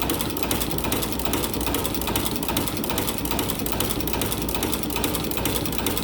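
A sewing machine motor stitching blankets with spider wire line runs steadily and fairly loud, a fast even mechanical whir and rattle with no talking.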